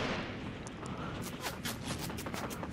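Gunfire in the video game Fortnite on the classic original map, a rapid run of sharp shots crackling steadily through the clip at moderate loudness with busy game noise underneath.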